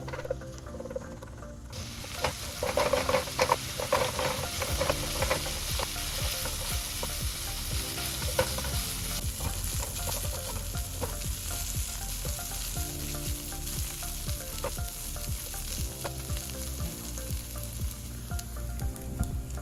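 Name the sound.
chicken sandwich filling frying in a pan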